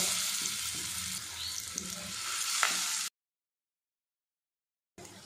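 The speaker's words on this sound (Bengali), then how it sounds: "সবগুলো টিকিয়ে আমি রেডি করে নিয়েছি, নিয়ে তেলের মধ্যে দিয়েছি।" Teasel gourd and chana dal tikkis fry in hot oil with a steady, dense sizzle for about three seconds, then cut to silence before the sizzle briefly returns.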